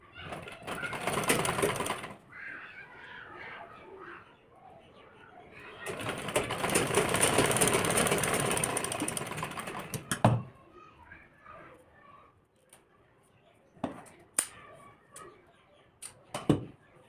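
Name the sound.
sewing machine stitching a blouse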